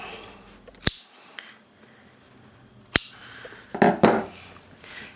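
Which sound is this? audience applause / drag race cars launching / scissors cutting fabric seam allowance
scissors cutting fabric seam allowance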